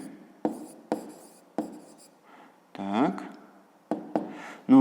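Handwriting on a surface, heard as a series of sharp taps and short scratchy strokes, close and fairly loud, with a brief voiced sound in the middle.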